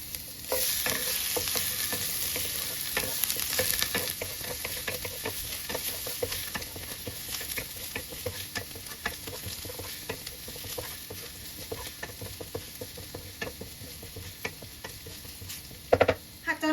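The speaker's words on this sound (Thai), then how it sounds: "พอกระทะร้อนแล้วนะคะ เราก็ใส่กระเทียมลงไปผัดเลยค่ะ" Steady crackling sizzle of garlic stir-frying in hot oil in a pan, with scattered pops and scraping stir sounds, close and continuous, no voices.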